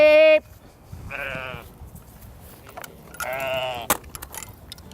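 Rare-breed sheep on a historic farm bleat several times, one loud close call followed by quieter wavering bleats, with faint rustles and a voice in the background.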